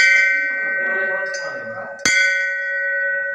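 A temple bell in Kawardha, Chhattisgarh rings with a sustained metallic hum, then a second sharp strike at about two seconds sets off a bright, ringing tone that lingers and slowly fades.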